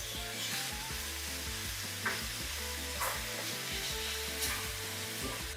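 Ground beef and onions fry in a pan, a steady sizzle beneath repeated scraping stirs, with a few sharper clanks of the utensil against the pan spaced about a second apart.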